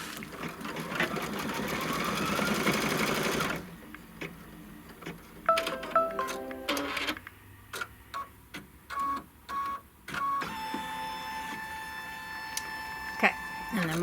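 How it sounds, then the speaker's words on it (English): Embroidery machine stitching a ribbon down on a roll-up pouch project, a steady mechanical whir at first, then a run of rhythmic ticking stitch bursts and short stops, with a voice talking over parts of it. "then it's just going to stitch that ribbon down."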